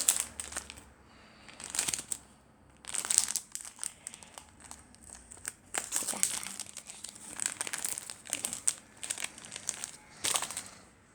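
A packaged hair clip being opened, with close, quiet plastic crinkling and rustling in irregular bursts and short pauses between them.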